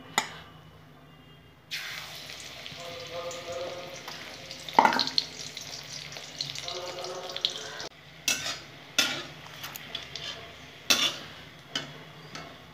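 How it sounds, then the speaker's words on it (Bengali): Pumpkin flower fritters fry in oil with a steady close sizzle, broken by a few bubbling surges and sharp clinks and scrapes of a utensil against the pan. "মিষ্টি কুমড়ো ফুলের পকোড়াগুলো ভেজে নেবো বন্ধুরা"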